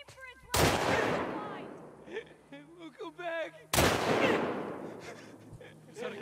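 Machine gun fire in The Last of Us Part II, two loud booming bursts with long decaying echoes, separated by a stretch of voices talking.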